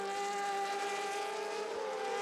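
Formula V8 3.5 race cars at Jerez in 2016 give a steady, high-pitched engine whine that holds constant for a couple of seconds. They run close together at racing speed, heard from a moderate distance.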